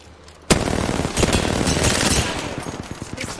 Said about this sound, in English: Standing still and shooting.